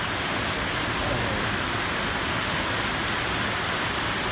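Heavy rain falling near a paper factory village, a steady dense hiss of downpour holding even and unbroken, with no clear easing or voices.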